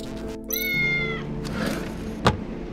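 A cat in the video game Tales of the Neon Sea gives a clear rising meow, followed by a softer second mew and a brief thunk near the end.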